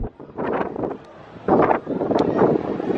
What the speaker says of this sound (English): It's so windy up here though, so I don't know if you'll be able to hear me.